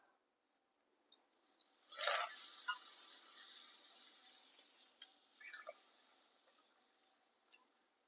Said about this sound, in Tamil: எண்ணெய் நல்லா சூடானதும் எடுத்துருக்கிற அப்பளத்தை எல்லாம் இதில் போட்டு பொரிச்சு எடுத்துக்கலாம்